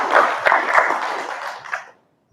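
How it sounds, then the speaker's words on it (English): A small audience at a networking event gives a short round of applause, a brief burst of close clapping that fades out within two seconds. "So let's give a round of applause"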